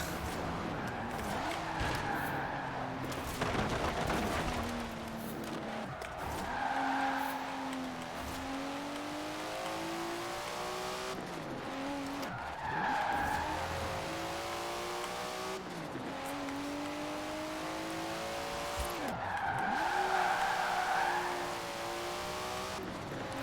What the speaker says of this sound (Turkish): İyi kayıyor. İyi drift yapıyoruz yani.